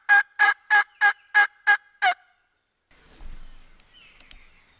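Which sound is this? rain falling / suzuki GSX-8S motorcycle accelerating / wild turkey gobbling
wild turkey gobbling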